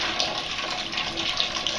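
Homebrew water runs slowly into a brew kettle as a steady, even trickling rush, continuous and close, with no talk.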